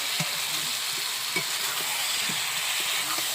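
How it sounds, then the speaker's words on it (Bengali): Country chicken sautéing in a pot gives off a steady, close sizzle, broken by soft intermittent stirring scrapes throughout. "এই মাংসটা কিন্তু অনেকক্ষণ কষতে হবে"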